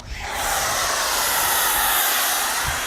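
Foam sprayed onto a 2021 Volkswagen Jetta R-Line during an outdoor wash: a loud, steady, close hiss that builds within half a second and holds evenly to the end.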